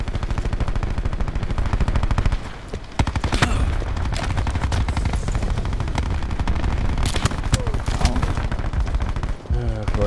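Sustained rapid automatic gunfire in the shooter game Black Ops 4, loud and dense bursts running almost the whole time with a brief lull midway and sharp individual shots, no talking over it.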